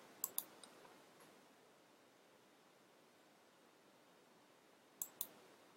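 A computer mouse clicks twice in quick succession, then again after a long pause, crisp and close against a faint steady hiss.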